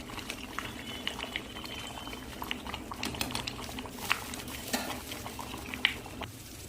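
Khichuri bubbling in a pot on a gas stove, a soft, close simmer of popping bubbles and gentle stirring with occasional light clinks against the pot.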